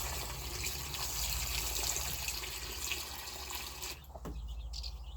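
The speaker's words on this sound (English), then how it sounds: "I'll replace this water every day so they get fresh water every day." Rainwater from a bucket pours into a chicks' water dish in a steady, continuous stream, close and fairly quiet, with a brief change in the flow near the end.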